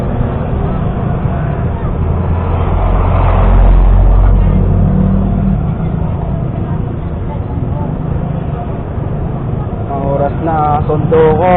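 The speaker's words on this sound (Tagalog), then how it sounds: "Medyo traffic din ah." Traffic rolls along Aguinaldo Highway in a steady, loud wash of engines and tyres, with a heavier vehicle swelling past nearby midway through and a voice talking over the road noise near the end.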